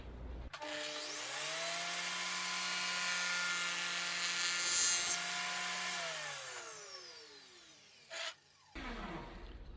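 A dado blade stack on a table saw makes a first pass through wood for simple cabinet doors, a loud steady whine rising as the blade spins up and holding through the cut, then winding down, with a brief clunk near the end.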